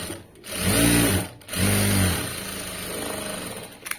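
Electric tailoring sewing machine stitching cloth, running in two steady bursts with a short pause between, then a lighter hum and a final click.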